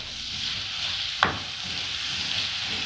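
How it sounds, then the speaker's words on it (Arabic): Onions and garlic sizzle steadily in a hot pan as they are stirred, giving a continuous close frying hiss with one sharp scrape of the utensil against the pan near the middle. "هقلب فيه كده شويه يا حبايبي لغايه ما البصله تدبل"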